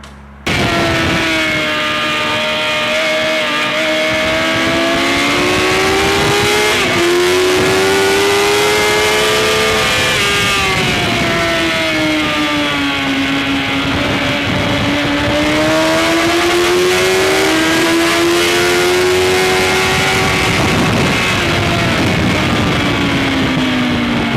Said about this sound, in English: it's whipping you around the track at horrible speeds